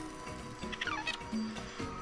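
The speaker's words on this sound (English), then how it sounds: "Bird singing." Bird calls in the video game Snake Pass, a few short chirping and warbling notes over a low steady game soundscape, fairly close and clear.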